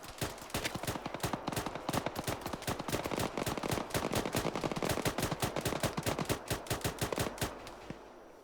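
Sustained automatic gunfire rattles through a Chernarus peacekeeping battle in Arma, a long run of rapid, evenly spaced loud shots with a few overlapping bursts that taper off near the end.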